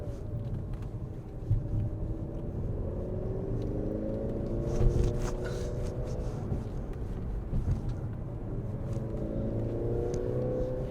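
A Mercedes-Benz C300 4Matic with a turbocharged gas engine drives along, its engine droning and rising in pitch as it accelerates under a steady road and wind rumble heard from inside the cabin.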